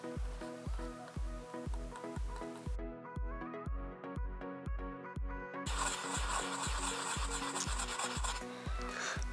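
Corrosion is scraped off a Commodore A501 RAM expansion board in quick repeated rasping strokes, a steady rhythmic scratching close by, growing harsher toward the end, with no talk.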